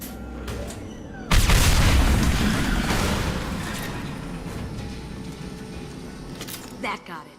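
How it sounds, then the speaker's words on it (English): Tanks blowing up in Mass Effect 2 Legendary Edition, a loud close explosive boom that rolls out into a long decaying rumble, preceded by scattered smaller weapon shots and followed by brief game sounds. "It'll take heavier weapons than that to blow those tanks."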